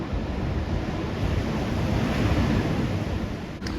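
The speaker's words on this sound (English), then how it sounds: "as long as I hear that beautiful sound of crashing waves to get me prepared for tonight" Waves crashing on a Devon shore in December, a loud continuous roar of surf with heavy wind buffeting the microphone, no voices.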